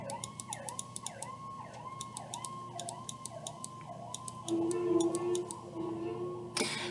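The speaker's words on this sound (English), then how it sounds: "pardon the siren" A wailing emergency siren cycles repeatedly in rising and falling sweeps, heard at a distance and fairly faint, with no talking over it.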